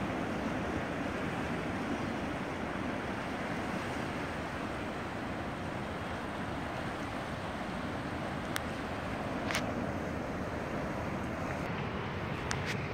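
Ocean surf rumbles steadily at Carlsmith Beach Park in Keaukaha, Hawaii, a continuous broad wash of distant breaking waves mixed with wind buffeting the microphone, with a few faint sharp clicks near the end.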